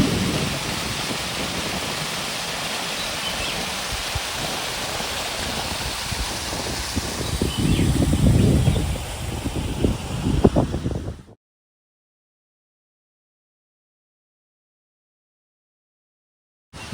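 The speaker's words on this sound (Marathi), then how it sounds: "आणि हा इथं आहे नापणे धबधबा." Rushing water of the Napane waterfall in Maharashtra, seen from a glass bridge in February, a dense steady roar that swells slightly near the end before cutting off abruptly into silence, with no talking.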